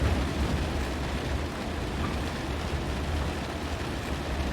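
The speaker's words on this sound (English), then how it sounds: "I believe that sound is the sound of rain." Steady rain drumming on a Kodiak aircraft in the X-Plane 11 flight simulator, a dense, even wash of noise holding at one level throughout, with no voices.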